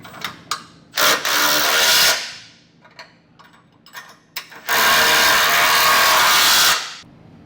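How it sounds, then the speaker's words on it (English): Bolts on a Blue Ox base plate kit on a 2024 Ford Escape are run down, heard as two long, loud bursts of a power tool with scattered ratcheting clicks and metallic knocks between them. "Snug up the hardware on the passenger side, 3/4 inch socket and wrench. Just run these down."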